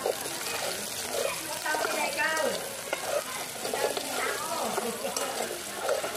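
Ginger and garlic sautéing in a pan for spicy chicken adobo with coconut milk, a steady frying sizzle with spoon stirring scrapes, while a person talks over the cooking.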